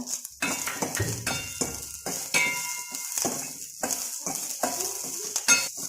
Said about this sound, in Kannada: ಇದು ಬೆಳ್ಳುಳ್ಳಿಯನ್ನು ಹಾಕಿ ಸ್ವಲ್ಪ ಬಾಡಿಸಿ, ಜೋಳವನ್ನು ಹಾಕಿ ಸ್ವಲ್ಪ ಬಾಡಿಸಬೇಕು